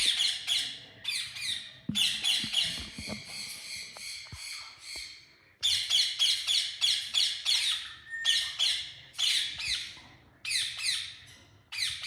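Black-headed conure and turquoise parrot chicks squawk loudly and close in repeated harsh bursts, rising and falling in clusters separated by short pauses, with faint shuffling between.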